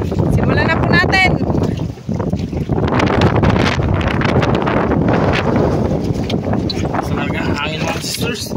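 Strong wind blasts across the microphone on a fishing boat at sea, a continuous loud roar with gusts, with people talking now and then through it.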